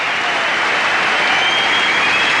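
Steady, dense applause from the crowd at the 1991 UIAA World Climbing Championships in Frankfurt, Germany, filling the hall loudly and continuously for the whole moment after a winning climb.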